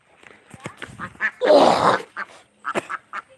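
Ducks kept in confinement quack in a series of short, close nasal calls, with one longer raucous burst in the middle, separated by brief pauses.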